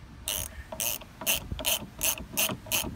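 Seven quick, crisp bursts of ratchet clicks ring out close by as 10 mm bolts are tightened on the side mirror of a 2012–2016 Toyota Camry, a short pause between each burst and no talking.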